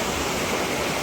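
A dense, unbroken roar of heavy rain from the first monsoon downpour, loud and even throughout a short stretch without any voices.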